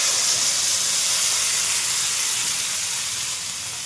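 A fish head frying in oil with onion, garlic, ginger and green chilies gives a loud, steady sizzling hiss that continues evenly throughout, with no voices.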